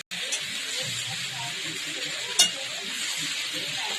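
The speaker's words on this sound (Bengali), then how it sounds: "ভালো করে একটু তেলের সঙ্গে একটু ভালো করে ভেজে নেব" Fish pieces frying in oil for a Bengali fish curry, a steady, fairly loud hiss and crackle with a single metallic clink partway through.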